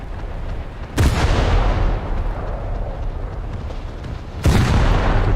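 Torpedoes strike a ship in a naval combat video game, setting off two loud, deep explosions a few seconds apart, each followed by a long rumbling roar that fills the space between them.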